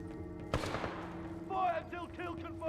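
Weapon fire in the shooter game Titanfall 2: a sharp loud blast with a decaying tail, followed by bursts of electronic whooshing shots, mixed under game voices and background score.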